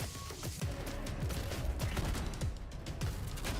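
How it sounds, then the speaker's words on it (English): Minigun fire in a competitive online shooter match, a rapid chattering burst of repeated shots running steadily through the whole stretch at moderate loudness, with no talk. "A Connie gun with the minigun is putting the pressure on"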